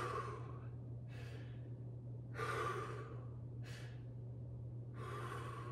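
Several deep, audible breaths after an exercise set, drawn in and let out at a steady pace over a low background hum, with no talking.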